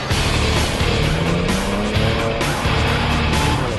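A Dinan-modified BMW 335i driven hard on the Horse Thief Mile race track, loud engine drone rising and falling through gear changes with tire squeal and rushing wind, heard from close by.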